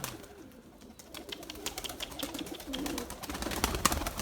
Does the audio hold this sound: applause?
no